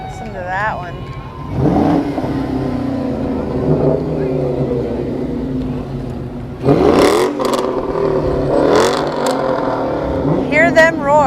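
High-performance cars, including a Dodge Challenger, rev and roar past in a small-town parade, loud surges of engine noise rising and falling, with people talking over them throughout.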